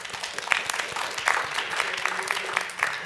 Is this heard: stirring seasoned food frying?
no